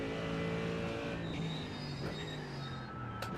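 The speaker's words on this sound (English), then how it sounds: "I love the way this car sounds, though." GT3 race car engine in the iRacing simulator, a steady continuous drone with rising and shifting pitch through gear changes, heard alone without talk.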